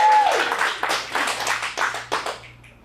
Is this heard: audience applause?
yes